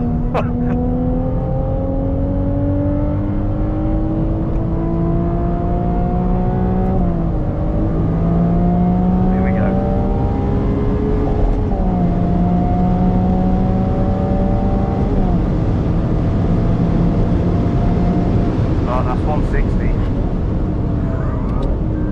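Ferrari 296 GTS driven hard on track, engine note rising and falling through repeated gear changes, loud and close from inside the car with steady road and wind roar underneath.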